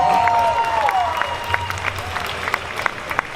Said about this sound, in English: a big round of applause for their amazing inspiration